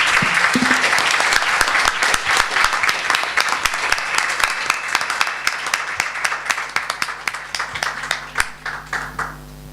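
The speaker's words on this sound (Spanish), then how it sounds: "un aplauso para ellos" Sustained applause from an audience for panel speakers at a literary conference, many hands clapping steadily and loudly before gradually thinning out to scattered claps.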